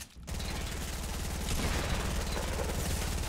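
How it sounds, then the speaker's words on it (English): Sustained rapid gunfire rattles without a break in a squad-mode PC shooter, a teammate firing, loud and close with a fast, steady rhythm throughout. "the teammate's shooting at me too"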